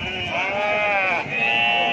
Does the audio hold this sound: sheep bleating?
yes